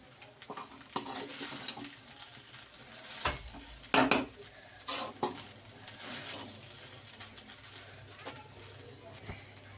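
A spoon stirs broccoli chicken rice around a pan, with soft scraping and a few sharper clanks against the metal over a light background sizzle.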